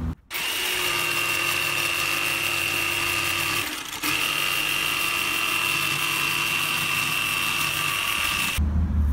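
A jigsaw cuts through a furniture board for a Mercedes Sprinter campervan build, a loud, steady high-pitched buzzing saw that runs almost nonstop with one brief dip partway through before it stops.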